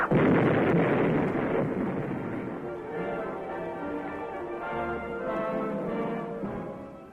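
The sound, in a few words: booby-trapped mortar shell charge detonated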